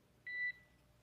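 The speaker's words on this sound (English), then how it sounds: "There is a chance that we get a lot of alarms." A single short electronic alarm beep sounds aboard or around a SpaceX Crew Dragon capsule during Axiom-4 splashdown recovery in the Pacific, a steady tone lasting about a quarter second over a quiet background.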